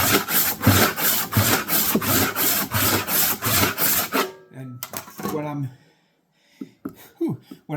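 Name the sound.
hand saw resawing wood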